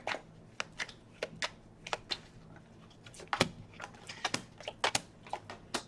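Tarot cards riffle and snap in quick irregular flurries, close up, with crisp clicking taps between the shuffles.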